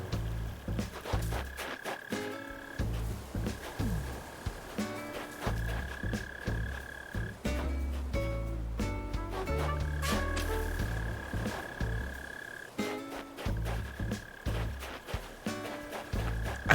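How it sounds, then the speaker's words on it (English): A mole cricket chirps from underground in the Animal Crossing New Horizons video game, a repeated low buzzing trill over a looping bouncy background tune, with no talking. "I honestly completely forgot about mole crickets until I just heard that sound."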